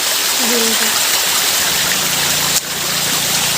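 A loud, steady rush of a forest stream at Kadamgiri dominates, with a brief voice early on and a low engine-like hum joining later.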